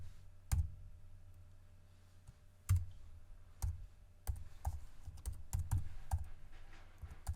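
Keys clacking on a computer keyboard, scattered single taps at first, then a quicker run of strokes, close and quiet with no one talking.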